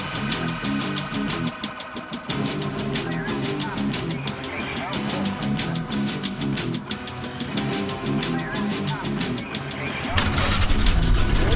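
Several ATV quad bike engines running nearby on rough terrain, with a steady throbbing idle and rhythmic pulsing that grows louder and rougher near the end.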